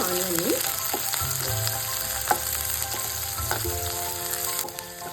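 Finely chopped medium onion frying in oil in a pan for capsicum curry, a continuous bright sizzle with a few faint clicks, steady and close, no voices.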